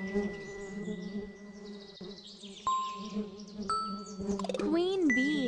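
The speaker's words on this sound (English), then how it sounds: "Worker bee." A worker bee's buzzing in a children's insect-learning app, heard as a synthetic drone with a few bright chimes and tinkling effects layered over it.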